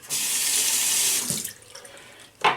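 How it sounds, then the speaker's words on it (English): Water running from a tap onto a shaving brush, a steady close rushing stream for over a second, then quieter trickling and a brief splash near the end. "now I'm going to wet this brush down"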